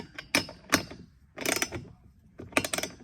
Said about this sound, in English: Tightening up.